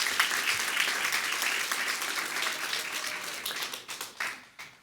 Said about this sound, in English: let's give Valencia a round of applause